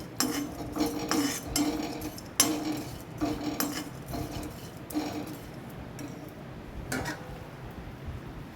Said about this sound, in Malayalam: വീണ്ടും ഉണക്കച്ചമ്മീൻ ഞാൻ വറക്കാൻ തുടങ്ങി നല്ലവണ്ണം ഒന്ന് ഇളക്കി വാർത്തെടുക്കണം